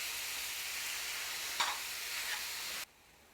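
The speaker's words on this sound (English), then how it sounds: "you're going to let that saute and cook. And let that cook in there, the ground turkey, until it's done" Ground turkey sautés in a pan with a steady, bright sizzle, close and even, one brief stir crackle midway, and the hiss cuts off abruptly near the end.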